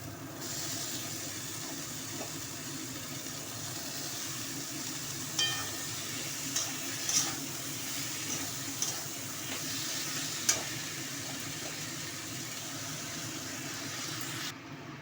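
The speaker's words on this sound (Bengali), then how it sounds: "এবার আমি এর মধ্যে বাঁধাকপিটা দিয়ে দেবো" Cabbage tossed into cooked-down spiced masala for an egg and cabbage curry sizzles with a steady, even hiss in the pan, broken by a handful of soft clinks and scrapes as it is stirred.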